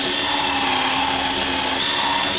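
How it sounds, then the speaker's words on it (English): A power drill bores into a Fresnel lens frame, giving a loud, steady high-pitched whine that holds without a break for over two seconds, with no talking. "we're going to drill, and I'll show you how it comes out"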